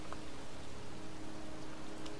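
Steady, soft rain falls in a cemetery in the video game Heavy Rain, a continuous even patter with no voices.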